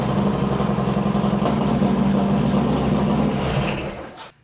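Harley-Davidson Road Glide, a rebuilt 2025 motorcycle with suspected wiring trouble, idles with a steady close engine rumble for about four seconds before it cuts off and falls silent.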